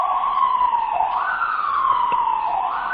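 An ambulance siren wails continuously in a rising and falling tone, loud and fairly close, sweeping past over faint road rumble.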